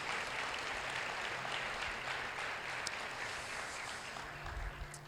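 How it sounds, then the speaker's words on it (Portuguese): A church congregation claps together, a broad sustained patter of many hands in a reverberant hall, fairly soft and easing slightly toward the end. "Você pode aplaudir o Senhor Jesus mais uma vez?"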